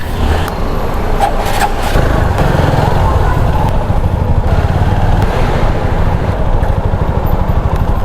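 A motorcycle engine runs loud and steady close by while being parked in a parking area, rumbling continuously without a break.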